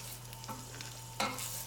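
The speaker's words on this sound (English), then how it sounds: "You want to keep mixing it around so everything is evenly cooked." Fish for tacos sizzles softly in a pan while it is stirred, with a low steady hiss and a couple of brief scraping accents near the end. No one speaks.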